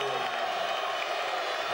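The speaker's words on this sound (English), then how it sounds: "A rousing reception from the big Wembley crowd for Bruno" A big Wembley boxing crowd roars for the heavyweight Bruno, a loud, steady wash of cheering and applause filling the arena without a break.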